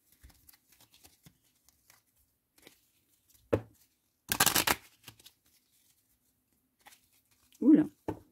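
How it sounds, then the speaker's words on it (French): Cartomancy cards shuffled by hand in a quiet room: a soft riffle, then a longer dense burst of papery shuffling, with small taps and a brief low voice between. "Donc, je remélange"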